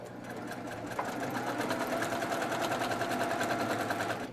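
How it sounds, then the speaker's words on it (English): A sewing machine runs steadily as it stitches a seam on a pieced quilt table topper, its fast even needle rhythm close and continuous throughout, with no voices. "my needle is coming up to the nested seam, and it's going to go just over it by one, maybe two stitches"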